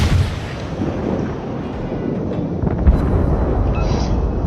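Heavy warship guns boom in the World of Warships game, a dense rumbling barrage with a sharp blast near the middle, loud and continuous over low roaring noise.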